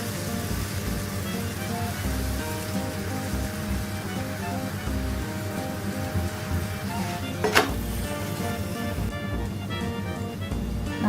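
Chapati roti frying on a hot pan while being pressed down on all sides, a steady close sizzle throughout with a brief sharp crackle partway through and no talking.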